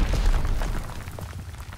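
Mortar round explosions in a video game shooter land as a dense, rumbling low boom that fades over under two seconds, with no talk over it.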